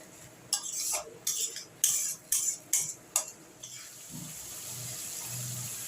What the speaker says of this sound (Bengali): মশলাটা যাতে না পুড়ে যায় তার জন্য আমি সামান্য একটু জল দিয়ে দিলাম